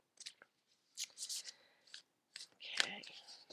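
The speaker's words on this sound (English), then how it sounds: "shuffle the deck and begin the reading" A deck of oracle cards is shuffled by hand close up, giving short soft riffling and sliding bursts in an uneven rhythm with brief quiet gaps.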